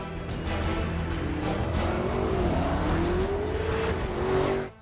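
A Ferrari Purosangue is driving, with a steady engine drone that rises and falls in pitch as it shifts and accelerates. It holds at a fairly constant nearby level, with no talk.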